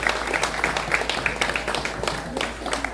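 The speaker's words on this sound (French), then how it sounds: "Je vous demande un tonnerre d'applaudissements." An audience applauds a couple called onto a podium at a Legion of Honour ceremony, a fairly close, busy patter of many hands clapping steadily throughout.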